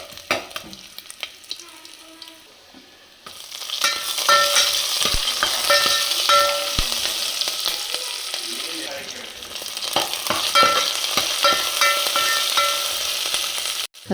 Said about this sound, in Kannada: ಈಗ ತುಪ್ಪ ಮತ್ತು ಎಣ್ಣೆ 2 ಸೇರಿಕೊಂಡು ಗೋಡಂಬಿನ ಫ್ರೈ ಮಾಡ್ಕೊತಾ ಇದ್ದೀನಿ